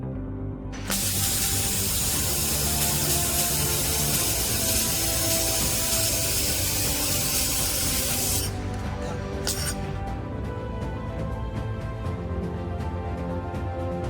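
Shielding gas rushes from a laser welding machine set up for stainless steel after its air button is pressed: a loud, steady close-up hiss for about eight seconds, then it cuts off, followed by a brief second burst.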